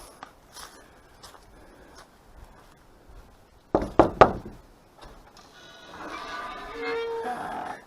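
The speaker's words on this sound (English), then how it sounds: "I knock on the door and open it slowly" Knocks on a wooden cabin door at a lake campsite, a quick cluster of three or four loud raps close by, followed by the door creaking and shuffling as it opens.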